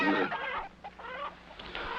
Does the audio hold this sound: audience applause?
no